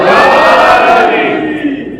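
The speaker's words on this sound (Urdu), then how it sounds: "دونوں ہاتھوں کو بلند کر کے نعرہ حیدری" Crowd at a religious gathering shouting a collective slogan with raised voices, one loud, drawn-out chant that swells and then tapers off over about two seconds.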